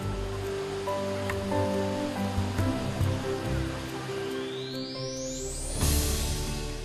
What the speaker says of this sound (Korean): 세찬 옥수가 떨어지는 천지연 폭포.